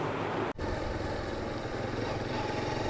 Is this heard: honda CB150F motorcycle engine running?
yes